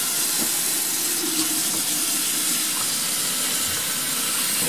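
Water from a tap pours steadily over a painted projector screen sample, a continuous broadband hissing rush that stays loud and even throughout with no voices.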